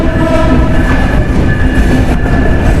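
Jahanabad Express passenger train rolling past a station platform, a loud steady rumble of wheels and carriages with faint rail clatter and hum throughout, no voices.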